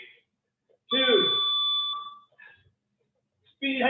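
A bell rings to start a round during a virtual boxing striking class, a bright sustained ringing tone lasting about a second, then cut off, recurring near the end, with a coach speaking between rings.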